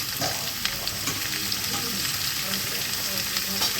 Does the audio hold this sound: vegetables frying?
yes